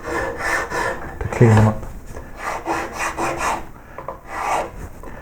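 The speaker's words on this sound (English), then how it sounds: "put a small rasp with a half round face down them like this" A small half-round rasp files down the flutes of a hand-carved wooden koi carp tail in a run of rhythmic, scraping strokes, close and fairly loud, with a voice speaking briefly over the work.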